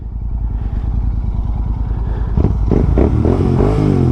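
A GT 650 motorcycle engine runs loudly and close while riding, a steady thumping idle-like pulse that rises into revving and acceleration partway through, with no talk.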